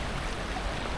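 A small brook flows under a little bridge and a building in a quiet German resort town, giving a soft, even watery rush that stays continuous and fairly faint, with no voices.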